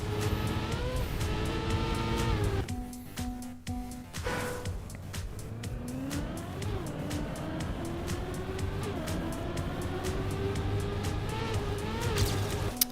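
A snow car in a winter racing video game drives over jumps: a continuous engine drone rises and falls in pitch as it revs and lands, loud and close, with no talking.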